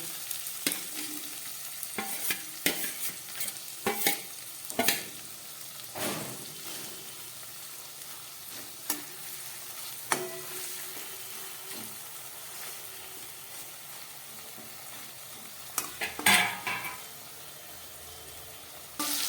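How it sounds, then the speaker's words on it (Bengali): Spiced amudi fish hitting hot oil with fried onions in a pan, a steady sizzle and frying crackle broken by repeated sharp scrapes and clinks of stirring, close and moderately loud with no talking. "এবার আমি এই মশলা মাখা মাছটা এর মধ্যে দিয়ে দেবো"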